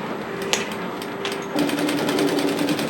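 A sewing machine stitches a scrunchie seam between the notches along the fabric edge, its motor whirring steadily close by and picking up speed partway through.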